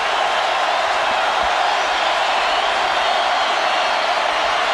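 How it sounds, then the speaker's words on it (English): A college football stadium crowd at Auburn versus Mississippi roars after a touchdown pass, a loud, dense and unbroken wash of distant cheering with no distinct voices. "Crowd making some noise now after the 28-yard touchdown pass."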